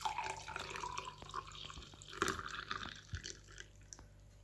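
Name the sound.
hot milk being poured into a cup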